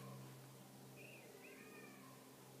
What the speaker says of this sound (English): It's some kind of yowling cat or something.